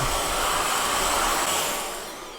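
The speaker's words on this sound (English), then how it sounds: "I did not expect this vacuum to be that good. It actually sucks very well on hard floors and carpets" A Dsorupa V10 Ultra cordless stick vacuum runs at a steady, close, loud whine with airy suction noise, picking up cornflakes and walnuts from the floor, easing slightly toward the end.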